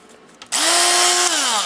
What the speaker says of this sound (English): This is a Dremel. Yeah, this sands plastic faster.